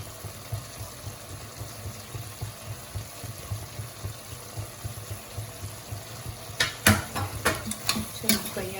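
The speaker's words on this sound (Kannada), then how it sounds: "ಚೆನ್ನಾಗಿ ಫ್ರೈ ಆಗಬೇಕಿದೆ." Coriander powder and chili powder fry in oil for a Naidu-style mutton curry, a soft steady sizzle with rhythmic stirring strokes that grow louder near the end, with sharp utensil scrapes and clinks, close and without speech.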